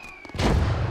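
Gunfire erupts in the Eastern Front war game Gates of Hell: Ostfront, a loud broadband burst of shots and booms that starts abruptly a third of a second in and keeps roaring densely to the end, close and unbroken, with no talk.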